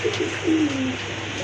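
A pair of large fancy pigeons offered for sale, one giving a short, clear, drawn-out coo close by over a continuous low hum.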